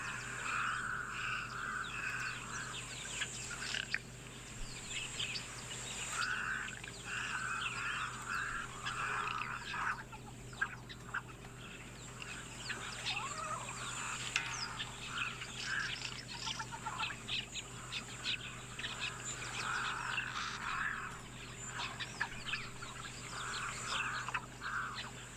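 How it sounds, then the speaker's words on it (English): Mourning doves call in the background of a savanna scene with gemsbok and springbok, a steady outdoor bird chorus of chirps and calls running throughout under constant ambient noise, fairly faint and distant. "those morning doves in the background here, always really great to tune into and listen to"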